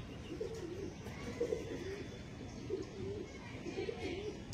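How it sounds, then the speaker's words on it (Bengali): Pigeons coo softly in repeated low, throaty phrases against a steady background hiss, a few calls spaced through the scene; a female pigeon with green eyes is among the birds. "সম্পূর্ণ গ্রিন চোখের একটা ফিমেল পায়রা দিচ্ছি ফ্রিতে"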